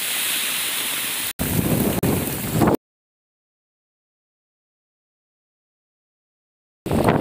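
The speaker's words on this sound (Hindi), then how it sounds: "अभी पूरा तूफान आ चुका है" Heavy rainstorm at Galudih dam, a steady roar of close rain and wind buffeting the microphone that cuts off abruptly into several seconds of silence, then returns briefly at the end.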